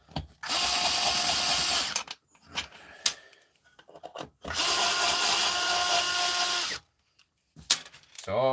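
A power drill drives stainless steel screws in two long, loud whirring bursts of about two seconds each, separated by clicks and handling noise, with a brief third burst at the end.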